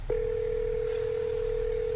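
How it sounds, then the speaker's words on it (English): A phone dial tone in the Scarlet Hollow video game, one steady unbroken tone starting abruptly and holding clearly for about two seconds over faint background ambience. "Stella pulls out her phone and dials."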